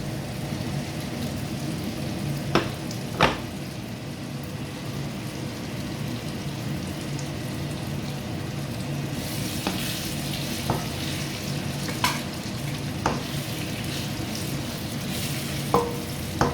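Prawns fry in a pan of Jaffna-style Sri Lankan prawn curry, giving a steady sizzle throughout. Occasional sharp clinks from a stirring spoon break through, with no talking.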